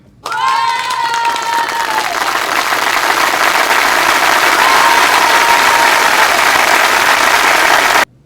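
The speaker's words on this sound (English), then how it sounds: "I would like a round of applause, please" A loud, steady round of applause with cheering that starts abruptly and holds evenly for about eight seconds, a voice briefly calling out at the start, then cutting off sharply.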